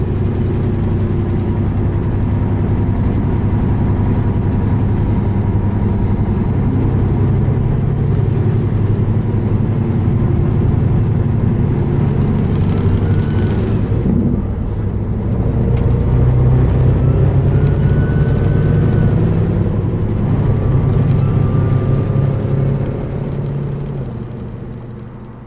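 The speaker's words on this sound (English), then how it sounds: "Tell me about that truck you're running there. 2014 Peterbilt 389 Fitzgerald glider" A 2014 Peterbilt 389 Fitzgerald glider truck driving, its diesel engine a loud, steady low rumble heard from the cab, with faint high whines over the drone and no talk.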